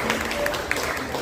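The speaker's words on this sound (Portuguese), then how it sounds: "Vamos dar uma salva de palmas ao Senhor" A church congregation applauds in praise of the Lord, a brief, diffuse patter of clapping mixed with a voice talking.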